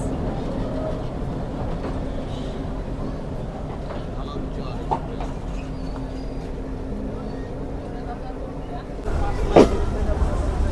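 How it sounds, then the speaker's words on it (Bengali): Dhalarchar Express, hauled by locomotive 65, rumbles past at a station with a steady low drone, ending in a louder burst and a sharp metallic squeal as the train nears. "ঢালারচর এক্সপ্রেসের সাথে ক্রসিং সম্পন্ন করে আরানি রেলওয়ে স্টেশন ছেড়ে গেল আন্তনগর বাংলাবান্ধা এক্সপ্রেস"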